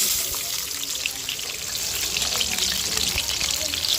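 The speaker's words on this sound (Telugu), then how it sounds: "అలానే పోపుతో పాటు ఆనియన్స్ వేసుకుంటే మాడకుండా ఫ్రై అవుతూ ఉంటాయి" Chopped onions frying with tempering spices in hot oil in a pan, a steady, close, hissing sizzle with a faint bubbling crackle throughout.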